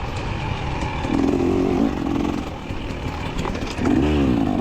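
Two-stroke dirt bikes race through a wooded hare scramble course, a continuous buzzing engine note rising in short revving bursts under wind and trail clatter.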